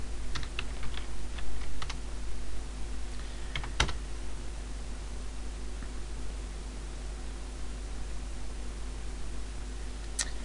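Someone types an apt-get install command on a computer keyboard: a quick burst of close keystrokes, then sparse, scattered key taps under a steady background hiss.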